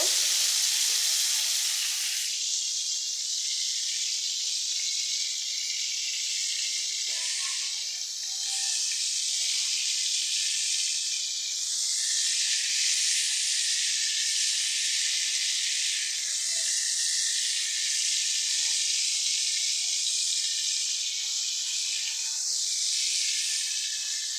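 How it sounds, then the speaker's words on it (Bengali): Pieces of pointed gourd (potol) fry lightly in hot oil, a steady close hiss and sizzle that runs without a break, with small crackles, and no talking over it. "তেলের মধ্যে মাছ ভেজে নিচ্ছি, এখন পটলগুলো ভেজে নিব"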